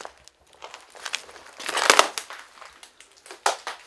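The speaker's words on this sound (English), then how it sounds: "it's all glass light bulbs. They're all smashed up, all light tubes." Smashed glass light bulbs and fluorescent tubes crunch and crackle underfoot in an abandoned storage area of a base, with loud, close, irregular bursts and no talking.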